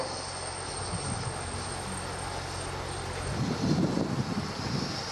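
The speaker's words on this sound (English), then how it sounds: "is actually doing approaches in the shuttle training airplane to the runway here" A shuttle training airplane flies approaches to the runway, its engine drone steady and distant across a windy open field, swelling somewhat louder toward the end.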